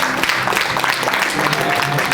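A church congregation applauds and cheers at a healing service, a dense, continuous wash of clapping with crowd voices mixed in, loud and close throughout.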